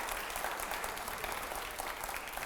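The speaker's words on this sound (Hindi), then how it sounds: "जोरदार तालियां हो जाए जरा।" Steady, dense clapping from a large audience, continuous and even throughout with no voices standing out.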